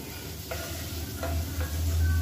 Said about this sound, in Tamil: மீடியமான ஃப்ளேமில் இந்த மசாலாவோட இந்த முட்டையை வந்து நல்லா வறுத்துக்கலாம்.